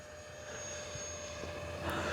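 Small 50mm electric ducted-fan BAE Hawk model jet flying at about 60% throttle, a steady whining drone with a constant tone, moderately distant and continuous, with a slight swell near the end.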